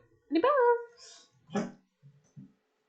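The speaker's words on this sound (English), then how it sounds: "my dog is literally barking" A dog barks indoors: one drawn-out, pitch-rising bark followed by a shorter one, both fairly close and loud, with a few faint thumps after and no talking.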